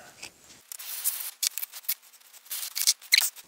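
A tool cuts a gate into a sand casting mold, giving soft, close scraping and rasping strokes in short irregular bursts.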